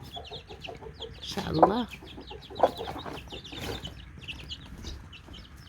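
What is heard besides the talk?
newly hatched chicks and hen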